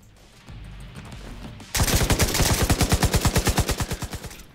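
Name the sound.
LMG gunfire from The Division 2 video game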